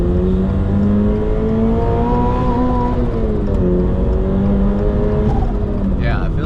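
Turbocharged 1000hp 2JZ engine in a carbon fiber Toyota GR86 pulling hard, a loud continuous engine roar with pitch climbing and dropping through gear changes, close and steady throughout.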